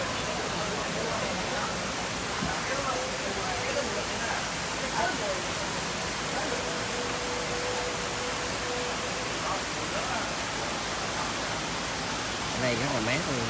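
Water rushes in the Hói Dừa mountain stream near Hải Vân Pass as a steady, broad hiss, close and constant, while voices speak faintly beneath it.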